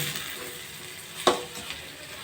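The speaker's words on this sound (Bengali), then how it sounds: "ভেজে রাখা সুজিগুলো দিয়ে আমি এক মিনিট ভালো করে একটু নাড়াচাড়া করে নেবো" Roasted semolina stirred in a pan for spicy suji, a low hiss of cooking with one sharp spatula scrape and a fainter knock later, close by, no voices.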